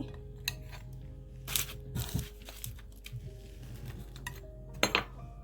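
Puff pastries set down onto a plate in a home kitchen, giving a few scattered clinks and soft crinkly taps of pastry on dishware, close and quiet, with sharper knocks near the start and end.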